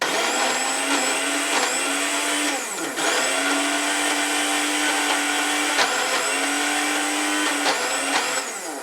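A blender whirs loudly and steadily, chopping turmeric and other ingredients for satay peanut sauce, its motor pitch dipping and recovering in a few periodic surges as chunks catch the blade, with no speech.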